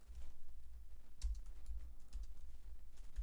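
Keys clacking steadily on a computer keyboard while JavaScript code is typed in the Coding with Chrome editor, a close run of quick taps and small bursts with no speech.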